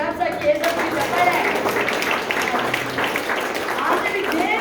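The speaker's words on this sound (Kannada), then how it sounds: "ಯೇಸುವಿಗೆ ಕ್ಲಾಪ್ಸ್ ಹಾಕಿ, ಯೇಸುವಿಗೆ ಚಪ್ಪಾಳೆ." A church congregation claps hands in praise of Jesus, with a steady wash of many hands clapping, loud and close, mixed with voices.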